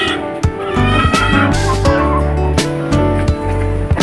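Loud, harsh chicken calls repeat in quick bursts close by, squawking and clucking from a Rhode Island Red and native chicken crossbreed, alone with no talking.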